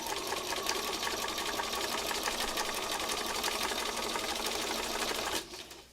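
A sewing machine stitches a spiral pattern across fabric patches, its rapid, even mechanical chatter running steadily for several seconds before cutting off abruptly near the end.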